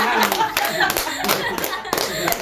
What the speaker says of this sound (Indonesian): Tepuk tangan buat Beta.